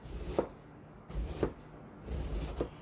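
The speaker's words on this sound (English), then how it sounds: "And then all I'm going to do is just cut it in thin slices." Knife slicing cabbage into thin slices on a cutting board, three soft evenly spaced cuts that land fairly close and quiet, with light rustling between strokes.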